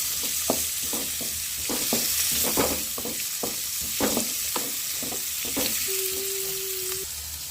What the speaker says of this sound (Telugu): సన్నగా తరిగిన ఉల్లిపాయలు పచ్చిమిరపకాయలు వేసుకున్నాం వేసుకొని వేయించుకున్నాం